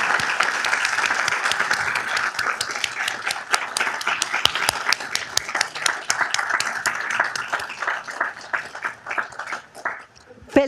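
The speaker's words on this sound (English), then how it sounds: "Let's give him a round of applause." Audience at a Downey City Council meeting applauds for a birthday, sustained dense clapping from a room of people that thins out near the end, with some talk mixed in.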